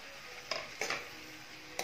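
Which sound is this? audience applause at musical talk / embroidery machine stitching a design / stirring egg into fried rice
stirring egg into fried rice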